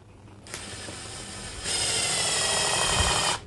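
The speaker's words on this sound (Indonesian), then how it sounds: "Anda masih bisa menggunakan impact wrench terbaru dari DeWalt ini untuk penyekrupan pada media multiplek" DeWalt DCF922 impact wrench on its low-speed timber screw mode driving screws into plywood: a steady close whirring rattle that steps up louder partway through and then cuts off, with no talking.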